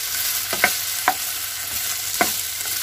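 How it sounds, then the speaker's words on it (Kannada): Potatoes frying in a little oil for a simple aloo fry, a continuous hiss of sizzling under three or four distinct spatula knocks against the pan, near and steady, without speech. "ಕೈಯಾಡ್ತಾ ಫ್ರೈ ಮಾಡ್ಕೋಬೇಕು."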